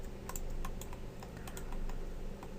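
Computer keyboard keys being pressed, including the B key, while working in Maya 2016, heard as several quick, light clicks close by in a quiet room with no talking.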